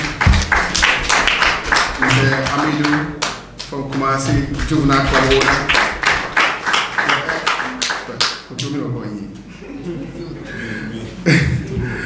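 An audience at a football launch event claps in bursts of many hands, fairly close and loud, while an announcer talks over them throughout.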